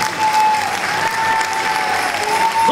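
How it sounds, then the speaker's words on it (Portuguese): Audience applauding a folk dance group at a stage performance in Vincennes, a steady dense wash of clapping filling the whole stretch, loud and continuous with faint crowd murmur. "Un fort aplaus per este grupo."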